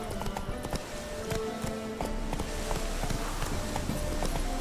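Hooves clip-clop steadily as the horse Roach runs in The Witcher 3: Wild Hunt, a quick continuous rhythm over a bed of game ambience, with no talk.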